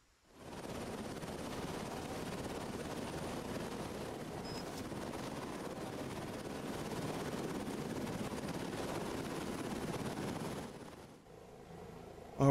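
A helicopter in the strategy video game Cepheus Protocol gives a steady, loud broadband rotor and engine roar that holds evenly for about eleven seconds, then cuts off abruptly.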